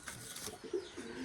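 Domestic pigeons kept at home give soft, low coos, a few brief murmuring calls close by and faint in a quiet room.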